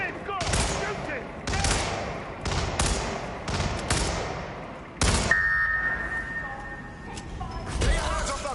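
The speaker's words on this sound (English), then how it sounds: "Weapons release on my command! Get it! Go! Shoot it!" Rapid bursts of video game gunfire repeat across the whole stretch, loud and close, with short pauses between volleys. A drawn-out electronic tone sits under one pause, and shouted voices cut in around the shots.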